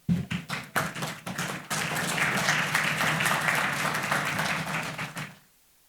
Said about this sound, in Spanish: Romina, te recibimos con un aplauso.